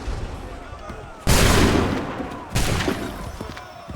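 Two loud musket volleys from massed soldiers in Assassin's Creed 3 crash out a little over a second apart, each a sudden broad blast that decays slowly, with battlefield ambience in between.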